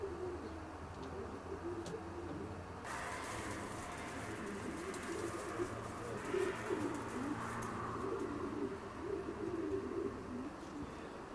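Racing pigeons in a widowhood loft coo softly and continuously, a low, throaty murmur of many birds close by, with no talking.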